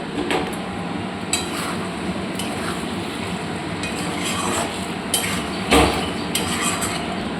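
Spices stir-fried in a pan with a bay leaf, a steady low sizzle under repeated scraping and knocking of a spatula against the pan, with one louder clank near the end.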